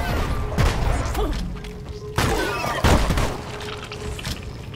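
Grenade blast in the Deep Rock Galactic game: several deep booming thuds and crashes about a second apart, loud and close, amid busy game noise with faint voices.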